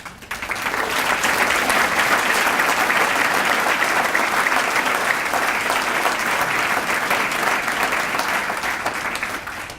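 Audience applause for a high school jazz band, a dense steady wash of clapping that swells in quickly and continues evenly throughout, with light crowd noise.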